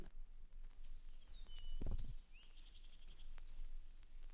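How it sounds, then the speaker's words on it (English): Henslow's sparrow from an old vintage recording, a single brief high, thin chirp-like song phrase in the middle, faint and isolated over quiet low hiss. "Henslow's sparrow."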